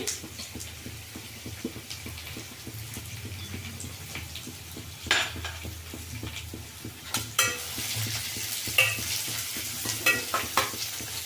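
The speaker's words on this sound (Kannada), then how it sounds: "ಈರುಳ್ಳಿ ಫ್ರೈ ಆಗಿದೆ" Onions fry and get stirred in a pan while cooking a horse gram greens saaru, with a steady sizzle and repeated spatula scrapes and clinks against the metal, close and fairly quiet.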